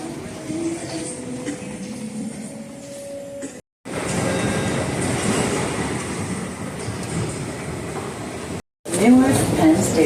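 A PATH train to Newark running, a steady rumbling rail roar with clatter inside the car, cut briefly twice, with voices and announcement-like tones in places.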